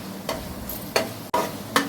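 A spoon stirring thick beetroot halwa in a pan, making three or four separate scraping strokes with quiet gaps between them, close and fairly soft.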